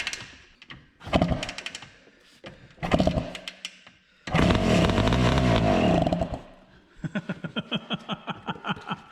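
A vintage Honda ATC250R two-stroke three-wheeler sputters through short cranking bursts, then catches briefly with a ragged roar before settling into a rapid, uneven popping idle; it is loud and close, with a voice heard faintly.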